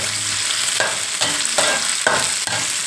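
Kaffir lime leaves dry-roasting in a pan, stirred in steady strokes that scrape and rustle about every half second over a continuous close, crackling hiss, with no talk.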